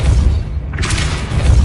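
Depulso spell effect in a wizard video game, a heavy low booming blast with a rumbling burst that swells and sustains over about a second and a half.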